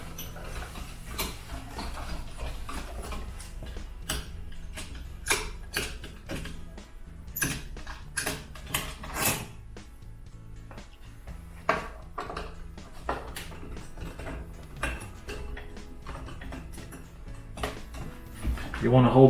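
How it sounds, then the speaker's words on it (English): A flathead screwdriver backs two screws out of door hardware, producing close clicks, creaks and ratcheting scrapes in an irregular rhythm under steady background noise. "take these two flathead screws out"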